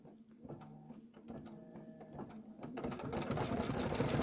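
An embroidery machine stitches a satin outline for a roof in brown thread on a Kimberbell farmhouse design, its needle running in a fast, even mechanical rhythm that grows louder and denser toward the end, close and with no voices.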